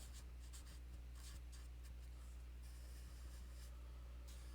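Writing on a board during a math lesson on eigenvectors: faint, scratchy marker strokes come in short irregular bursts over a low steady hum, with no talking.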